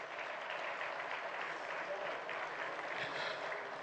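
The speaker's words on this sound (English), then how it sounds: "We need to applaud him and give him the deserved round of applause." A gathering honoring a former defence chief applauds after a book review, a steady, fairly distant roll of clapping with murmured voices underneath throughout.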